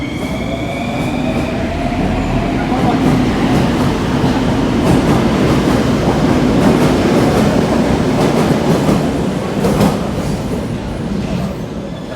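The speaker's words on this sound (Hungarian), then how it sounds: "Hát erre nem fértünk föl, úgyhogy még egy metrót megvárunk" A Bucharest metro train rumbles loud and close through the station, with continuous wheel clatter and a rising squeal of wheels, a steady roar holding throughout with faint voices underneath.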